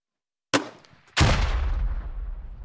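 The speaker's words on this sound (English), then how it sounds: "And S. Klein has got himself a grenade launcher. He fired one up at the second floor." Two sharp blasts from a grenade launcher in the tactical shooter Squad, a crack followed by a heavier boom half a second later, with a long rumbling tail fading off.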